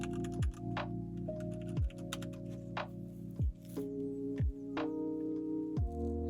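Clicky typing on a computer keyboard while Grim Dawn plays, with a steady patter of keystrokes running under louder tonal game sounds and repeating sliding effects.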